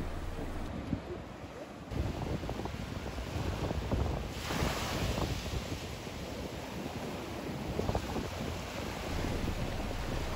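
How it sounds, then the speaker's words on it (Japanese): Ocean surf on an Okinawa beach on a windy day, with steady crashing waves and heavy wind rumbling against the microphone, continuous and loud throughout. "風が強かったので波もありましたが"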